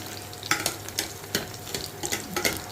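Oil crackles and sizzles steadily in a pan as garlic fries in a tempering, with sharp bursts of spattering and stirring scrapes popping up every half second or so.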